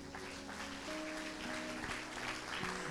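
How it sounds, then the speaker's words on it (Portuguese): Church congregation applauding during a celebration service, a faint, diffuse patter of clapping set beneath sustained organ or keyboard tones that shift pitch partway through. "aplauda ao Senhor."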